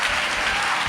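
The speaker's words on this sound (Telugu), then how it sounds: "చప్పట్లు కొట్టండి గట్టిగాను." A church congregation claps loudly and continuously during a Hosanna Ministries service, a dense, even patter of applause with no break.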